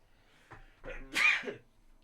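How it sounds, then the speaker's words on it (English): A single sharp sneeze from a man, with a short intake before it, close to the microphone in a quiet room, then silence. "I just sneezed a bit there."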